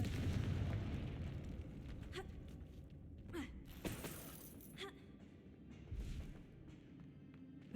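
Confringo blasting spell in Hogwarts Legacy, a few quiet bursts and sharp cracks over a low rumbling game bed, faint overall with no talk.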